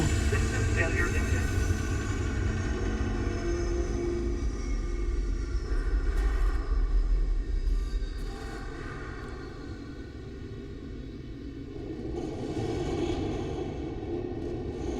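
Failing spaceship engine in the video game Starfield, a steady low droning roar with a high descending whine, loud throughout and dipping slightly midway, with a voice talking over it.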